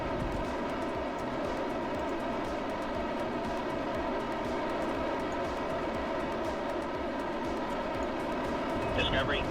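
A rocket engine in the video game Kerbal Space Program roars as a steady, dense rumble for the whole stretch, with voices talking over it.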